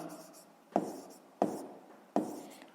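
Pen strokes writing numbers for a sixth-grade math exercise, three distinct scratchy taps spaced about two-thirds of a second apart, close and fairly quiet, with faint room noise between.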